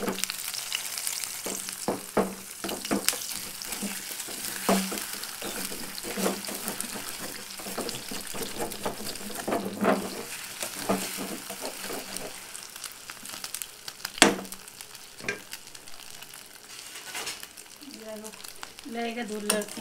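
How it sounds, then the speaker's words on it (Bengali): Food fries in a wok for a breakfast dish while it is stirred, giving a continuous crackling sizzle with frequent scraping and clinking strokes and one louder knock near the middle, with no talking. "হালকা করে ভাজবো, বেশি কড়া করে ভাজবো না।"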